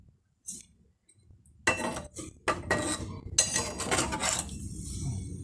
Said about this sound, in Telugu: ఒకసారి కలిపేసి మూత పెట్టుకుందామండి.